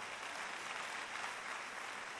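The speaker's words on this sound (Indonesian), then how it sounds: "Beri tepuk tangan yang meriah buat Tuhan." A church congregation claps during a sermon, a faint, dense and even wash of applause heard from a distance, sustained throughout without any voices.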